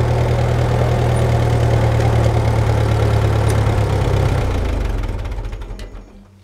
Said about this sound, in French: je vous présente mon nouveau tracteur